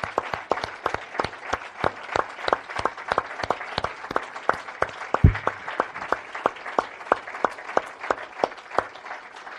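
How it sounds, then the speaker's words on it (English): A room full of people claps for Vietnam veterans at a history event, with steady, fairly sparse individual claps close by that keep a loose rhythm for the whole stretch. "let's give them a round of applause."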